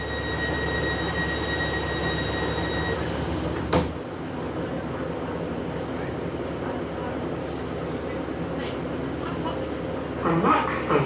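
A Great Western Railway train pulls away from a station near Okehampton with a steady rumble and rolling wheel noise, a high whine fading early and a door-like thump partway through, heard from on board.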